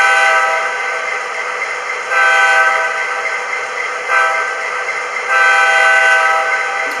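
A grade crossing horn sequence from an MTH Union Pacific Dash 9 model locomotive's sound system: four loud, sustained horn blasts, the third shorter, sounding alone with no talk.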